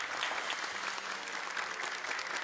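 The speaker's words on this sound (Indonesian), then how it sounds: "Tepuk tangan untuk Akil" An audience claps for a young Quran memorizer at a children's hafidz graduation exam, a steady, moderately soft patter of many hands with no voices over it.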